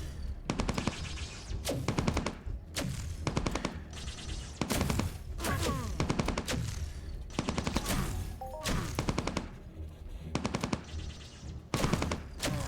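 Rapid automatic gunfire from turrets in Entropia Universe, loud bursts of rattling shots repeating in quick volleys throughout, with short gaps between bursts and no talking.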